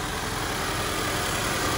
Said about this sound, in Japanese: はい、ではエンジンかけてみます。 はい、エンジンかけてみました。